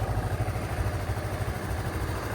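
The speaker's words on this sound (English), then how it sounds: "Hear how quiet this engine is. This is a one-cylinder 300cc engine." A single-cylinder 300cc motorcycle engine idles close by with a steady, low, rhythmic thumping and light mechanical clatter.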